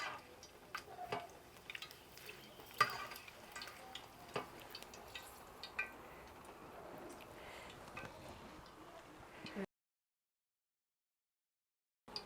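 Negro, mulato and pasilla chiles toasting in a pan, with a faint crackling sizzle dotted with small ticks and scrapes, then a brief silence.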